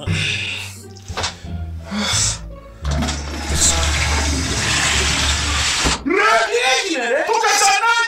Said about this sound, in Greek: Το καζανάκι! Θέλει και δεύτερη φορά